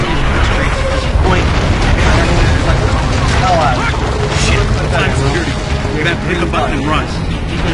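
Dense, continuous rumbling blasts and booms from Gears of War, with layered mechanical noise and chatter over the top throughout.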